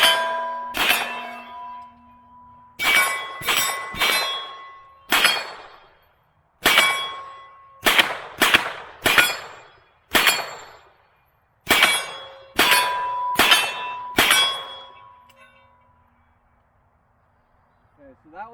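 A Palmetto State Armory AR9 carbine in 9mm fires 115 grain rounds at about 30 yards, with roughly a dozen sharp, loud shots in irregular pairs and singles, some ringing metallic, ending with quiet and a faint clink.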